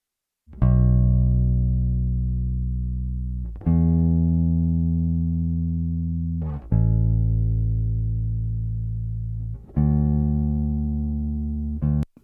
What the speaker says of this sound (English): let's jump to the part where the bass comes in. And let's just listen to bass